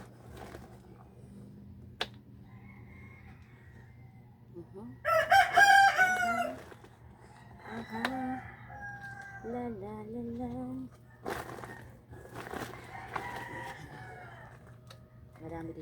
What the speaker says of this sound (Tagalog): Marami ditong may mga alagang manok.